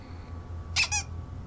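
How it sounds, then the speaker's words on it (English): A short two-part chirping alert for a text message in the Nancy Drew game The Deadly Device, two quick bright tones back to back over a low hum. "I have a text message."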